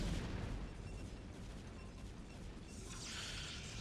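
Cannons firing in a StarCraft match: a dense, continuous rumble of booming game combat with layered explosions and mechanical clatter, steady and loud throughout, with a hissing high wash building near the end.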